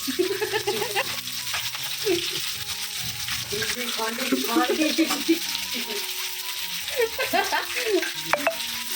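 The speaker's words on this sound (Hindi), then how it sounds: "तेल में प्याज और गिरा" Onions and desi chicken fry in hot oil, sizzling steadily while being stirred, with clinks and scraping close by and voices talking over it.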